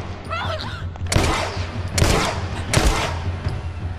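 Gunshots in the video game The Last of Us: Left Behind: three loud, separate blasts about a second apart, each with a long decaying tail, over a low rumbling game background.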